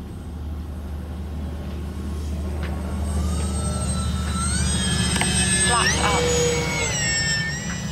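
An X-Fly Twin Otter 1800mm RC model plane flies overhead, its steady electric motor whine rising and shifting in pitch over constant wind noise, with a voice talking over it.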